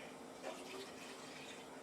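Water pours into a cooking pan for a roast beef dish, a soft, steady splashing fill heard faintly and close, with no talking over it.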